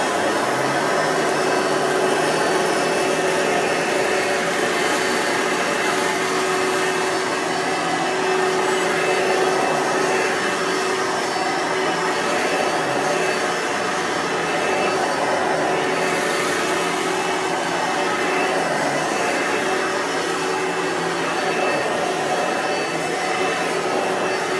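A Kenmore PowerCenter vacuum cleaner runs steadily and loudly close by, a continuous whining roar with a faint bearing rumble underneath.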